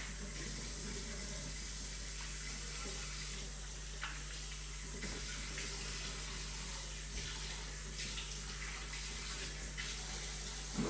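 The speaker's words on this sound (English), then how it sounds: "Rinsing all that scrub off my face." Tap water runs steadily into a sink while face scrub is rinsed off, a continuous broadband splashing rush that stays fairly even throughout with no talk over it.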